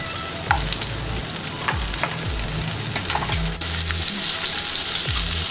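Butter and oil sizzle steadily in a cooking pan while a matar makhana curry is prepared, with a continuous close frying hiss, a few low stirring scrapes, and no talking.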